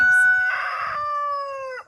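A rooster crows once, loud and close, a long drawn-out call with a brief higher note at the start, kept among a farm's chickens, with faint low murmurs beneath.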